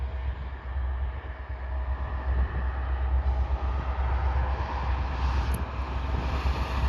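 Canadian National freight train switching tracks at Pembine, a steady low rumble of rolling cars and locomotive that holds loud and continuous throughout, with no voices.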